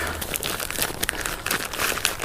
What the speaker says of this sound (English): just kind of squeeze it together and zip